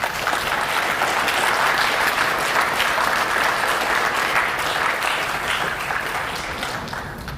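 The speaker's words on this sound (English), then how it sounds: "please join me once again in applauding all of our new Honor Society members" A school auditorium audience applauds new National Honor Society members at an induction ceremony, a steady wash of clapping that holds for several seconds and then begins to thin toward the end.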